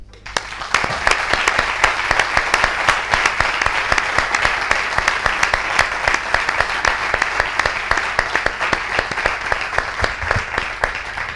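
Audience at the opening of a new municipal archive in La Unión breaks into sustained applause, a dense, steady wash of many hands clapping that fills the room for over ten seconds.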